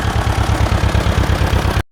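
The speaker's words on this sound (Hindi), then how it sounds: "अरे रामू, यह ट्रैक्टर लेकर अजीब से दिखने वाले साधन लेकर कहाँ चल दिया?" A tractor engine running loud and close, a steady pulsing idle-like chug with a regular low knock, continuous until it cuts off abruptly.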